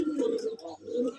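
Domestic pigeons cooing at a home loft in Dhaka, a low throaty rolling coo repeated in two or three phrases, close and fairly loud, with a faint voice in the background.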